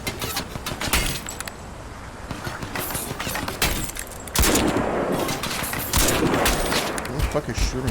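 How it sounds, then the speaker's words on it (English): Gunfire in Crysis 2 Remastered on Xbox Series X, dense overlapping shots and bursts crackling steadily throughout, with sharper blasts near the middle and a voice mixed in at times. "Who the fuck is shooting?"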